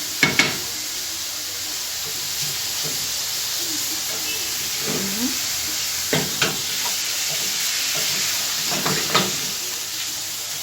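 Garlic sizzles and hisses steadily in hot oil in a pan, with occasional stirring clinks and scrapes over the constant frying noise.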